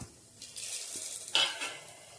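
Asafoetida, a cinnamon piece and bay leaf sizzle in hot oil: a soft hiss rises, with a few utensil clinks and a brief louder burst of frying partway through, no talking.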